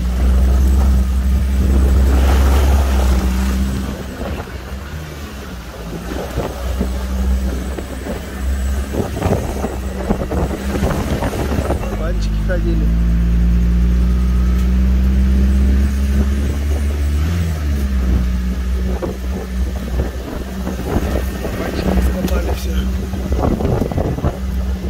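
An RM Atlet quad bike drives along with a steady low engine drone under strong wind buffeting, while people talk over it throughout.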